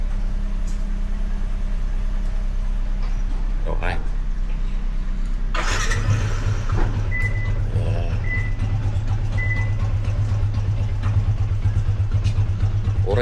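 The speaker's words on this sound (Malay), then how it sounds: "So, kita start motor lah." A motorcycle, parked a long while after repair, is started outdoors: a low idle hum, then a burst as the engine catches and settles into a steady rumbling idle, with someone speaking briefly over it.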